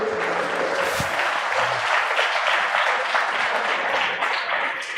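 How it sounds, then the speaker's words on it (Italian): A church congregation at a baptism service applauds the parents, sustained, dense clapping from a crowd filling the whole stretch at steady volume. "facciamogli un applauso ai genitori che sono qui"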